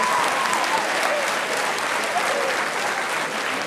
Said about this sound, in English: Give him a round of applause for being stunningly beautiful, right?